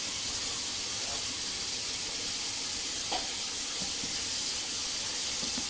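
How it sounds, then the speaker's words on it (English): Tap water runs steadily from a sink faucet during a home drain inspection, a continuous close hiss with faint knocks and clinks underneath. "we're going to go ahead and leave that water running"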